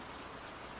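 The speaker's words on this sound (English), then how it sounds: "The rain was pouring now." Pouring rain, a dense, steady hiss of drops falling continuously, moderately loud and with no other sounds over it.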